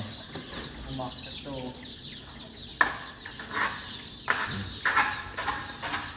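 Chickens cluck in short, repeated bursts near a house where floor tiling is underway, with some scattered background activity between the calls.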